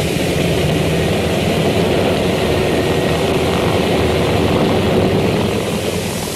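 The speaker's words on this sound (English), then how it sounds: "the planes raced back to their base with their high-priority cargo" A steady, loud drone of World War II reconnaissance propeller aircraft in flight, with a dense engine roar that holds constant throughout and no voices.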